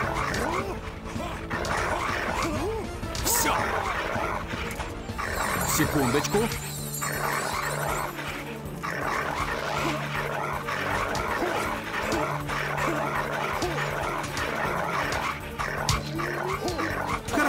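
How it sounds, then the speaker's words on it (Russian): Dogs barking and yelping in the video game Evil Islands (Проклятые Земли) as they are set loose, with repeated loud barks over a game soundtrack and someone talking over them. "О, собак спустили."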